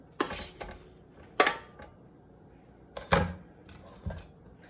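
Caramelized roasted vegetables go into a deep pot with a few sharp metallic clanks and scrapes of utensil against cookware, spaced irregularly over quiet background.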